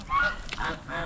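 Geese on a farm honk in a short burst of repeated nasal calls, close and fairly loud, overlapping one another with no voices in between.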